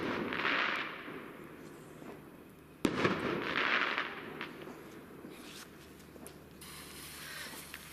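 A Madison five-shot roman candle firework from a Tesco Twilight box fires on Bonfire Night, outdoors, producing whooshing launches and sharp cracks spaced a few seconds apart, with one especially loud bang and fainter pops afterward.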